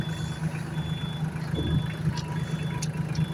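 Solis 26 mini tractors made by Sonalika idle and rumble nearby as they set off, a low steady engine drone with a faint high whine and a few small clanks.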